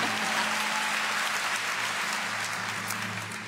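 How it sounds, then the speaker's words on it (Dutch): An audience applauds at the Dutch Amateur Musical Awards 2018 ceremony as an envelope is about to be opened. The clapping is continuous and fairly loud with a low hum beneath, tapering slightly toward the end. "APPLAUS"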